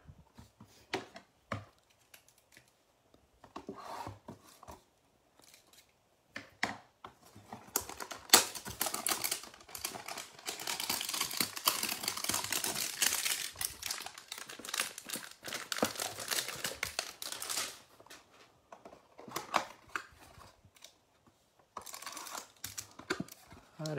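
A hanger box of Diamond Kings baseball cards is opened up close: crinkling cardboard and plastic wrapper tearing, with rustling and tapping that thickens into a dense, steady burst midway, then scattered handling, and no talking.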